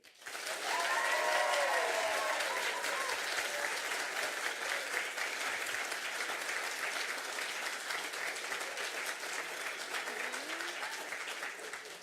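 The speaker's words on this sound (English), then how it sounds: "it's two countries, but only one round of applause, please, for Egypt/Switzerland, Ossama Khalaf." Sustained audience applause at a London science communication competition final, a broad steady wash of many hands clapping that swells early and holds for the full length, with faint cheering tones riding over it.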